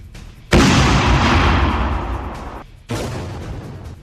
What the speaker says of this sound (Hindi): जब यूक्रेन ने इस पर अपनी नेपच्यून एंटी शिप मिसाइल से हमला किया तो देखिए क्या हुआ